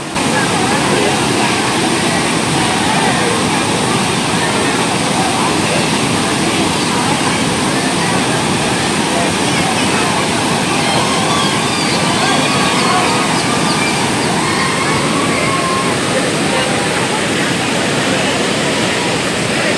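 Water rushing through a canal at the Kallanai dam, a loud dense continuous roar like a waterfall that stays steady throughout without pause, with no clear voices.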